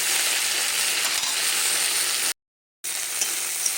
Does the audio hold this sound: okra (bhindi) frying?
yes